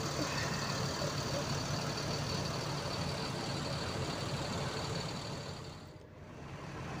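Large trucks idle at a busy roadside restaurant rest stop crowded with buses, giving a steady, loud low rumble of engines that dips briefly near the end.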